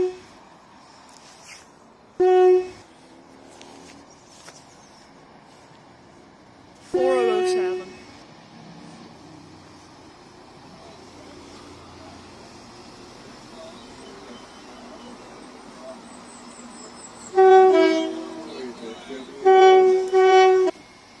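A Northern Ireland Railways 4000 class diesel unit approaches Whiteabbey station on a delayed evening Great Victoria Street to Larne Harbour service, sounding loud two-tone horn blasts repeatedly over a low rumble, with occasional voices nearby.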